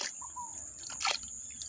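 Pond water is poured into a container holding tambaqui fingerlings. It starts as faint drips and trickles, then comes one brief, brighter splash of pouring liquid, close by and quiet.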